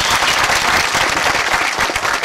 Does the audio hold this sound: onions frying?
no